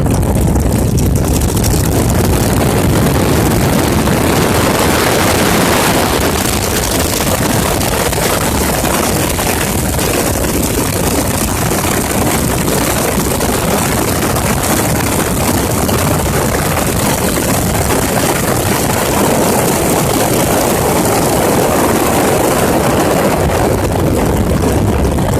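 Predator 670 small engine fitted with a performance cam, revving up under added throttle, a loud continuous roar with heavy wind-like rumble filling the whole stretch, no talking.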